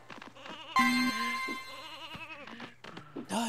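Sheep bleats in the N64 game Space Station: Silicon Valley, several wavering cries close up, with a steady low hum and brief interface blips around them.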